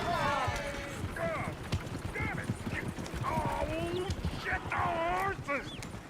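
Horses gallop in Red Dead Redemption 2, with brisk hoof clip-clops and a few whinnies and snorts over a busy rumbling game soundscape, while people talk throughout.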